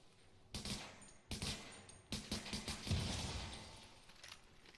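Gunfire in Tom Clancy's The Division: several sharp shots in quick bursts, some striking glass, with short gaps between volleys and a fading tail, moderately loud with no talk.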